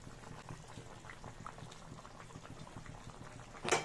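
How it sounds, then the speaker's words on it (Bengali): Fish curry gravy for katla fish simmers at a steady, quiet bubble in a pan, with soft popping throughout and a brief louder splash or clatter at the very end. "এবার ঝোলটা ফুটে আসলে ভাজা মাছগুলো এক এক করে দিয়ে দিচ্ছি"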